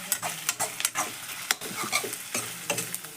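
Pork curry with spice paste is stirred in a pan, a rhythmic series of scraping, clacking strokes over a soft, low sizzle, close and distinct.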